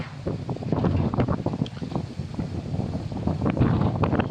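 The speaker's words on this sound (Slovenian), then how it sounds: "v Izoli razen vetra, ki nekoliko močneje zapiha sem ter tja" Wind gusts at night in the seaside town of Izola, Slovenia, blowing into the microphone as a steady low rumble that swells and buffets, with no talking.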